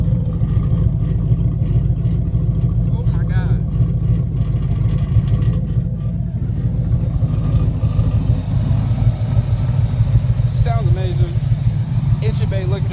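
A 1992 Camaro V8 with a new cam and a swapped carburetor idles at night, a loud, steady, deep rumble close by while a person talks over it.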